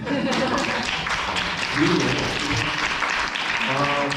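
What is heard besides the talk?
audience applause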